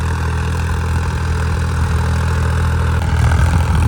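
A diesel tractor engine fitted with new tyres idles steadily and loudly up close, a low chugging drone with no speech.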